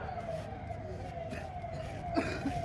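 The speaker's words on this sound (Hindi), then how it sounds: "एम्बुलेंस को थोड़ा बढ़िया से रास्ता दे दीजिएगा।" An ambulance siren wails with a steady drawn-out tone on a road near a taxi stand in Purulia, West Bengal, over traffic rumble and faint crowd noise.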